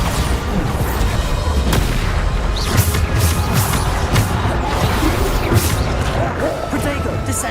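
Bombarda explosion spells in Hogwarts Legacy combat, a dense barrage of booming blasts and crashing impacts layered over each other, loud and continuous throughout.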